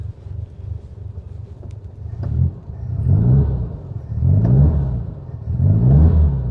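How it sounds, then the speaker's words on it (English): An air-cooled, dual-port 1963 Volkswagen Beetle engine idles and revs in repeating swells, a steady rumbling drone close by with no voices. "Listen to that motor,"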